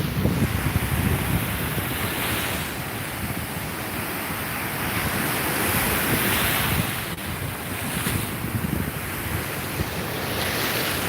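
Ocean waves washing onto a beach under strong wind, a continuous roaring surf with heavy wind noise buffeting the microphone, no voices.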